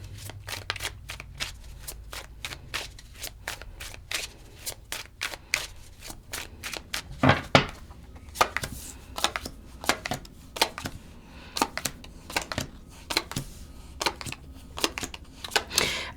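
A tarot deck is shuffled by hand in a long run of crisp, rapid card riffles and snaps, close and alone with no talk.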